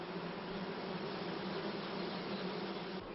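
Honeybees buzz in a steady, dense hum, a continuous close drone of many wings with no pauses and no voices.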